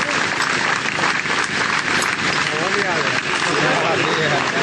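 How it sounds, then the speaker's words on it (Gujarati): A large audience claps loudly and continuously in a tented gathering, welcoming the assembled saints and mahants; the dense applause runs steadily throughout with a crowd murmur beneath it. "જોરદાર તાળીઓથી આપણે સૌ ઉપસ્થિત સંતોને અહીંયા વધાવી લઈશું"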